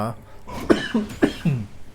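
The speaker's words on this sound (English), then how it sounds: "I need to cough." A short series of four throaty coughs in quick succession, close and fairly loud.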